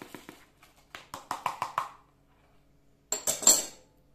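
Rock salt and lemon salt spooned through a funnel into plastic jugs for green olive brine: a run of crisp metallic spoon taps and clinks, then a short gritty rush of poured salt, close and with no talk.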